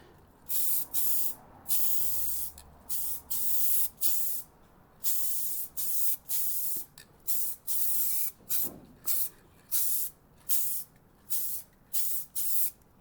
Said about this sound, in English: So first of all, the tack coat, just a light coat.